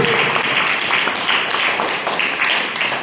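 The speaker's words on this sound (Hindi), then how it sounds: "जोर से ताली बजा के परमेश्वर को धन्यवाद करें" Sustained applause from a church congregation at Sunday worship, steady dense clapping filling a large room for several seconds without a break.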